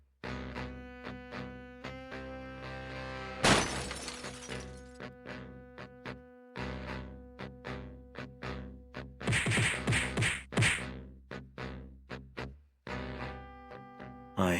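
Screaming electric guitar used as a sonic weapon, with loud bursts of crashing and shattering glass, sharp whacks and breaking impacts punctuating a dense, sustained tone over about fifteen seconds.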